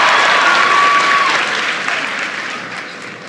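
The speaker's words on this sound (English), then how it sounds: "Please give him a big round of applause." Crowd applause at a high school commencement ceremony, dense and steady at first, then gradually thinning and fading over a few seconds.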